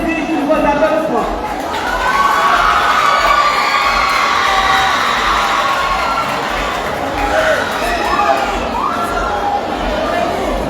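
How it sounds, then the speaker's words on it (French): A school audience at a quiz final cheers and shouts loudly, with children's voices and a crowd roar holding steady throughout. "Nous appelons Jean Kesby pour vos applaudissements"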